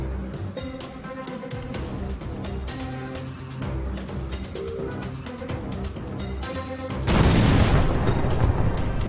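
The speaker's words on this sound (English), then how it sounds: "Activate nuclear bomb." A cartoon-style nuclear bomb explosion blowing up a theme park, heard as a continuous loud rumbling roar over busy dramatic noise that swells into a heavier, noisier blast near the end.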